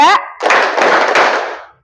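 Many people clap together in a counted clapping game during a classroom session: a quick voice cue, then a dense, close burst of hand claps lasting over a second before dying away.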